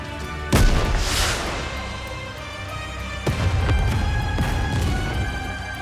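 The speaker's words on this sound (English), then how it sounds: "a shell flies from the rocket launcher. And a resounding explosion causes the entire snowfield to be blanketed in thick plumes of white smoke." In the video game Nikke: Goddess of Victory, a rocket launcher shell explodes over a snowfield. Two loud booms each roll out into a long rumbling decay, the first early and sharp, the second a few seconds later.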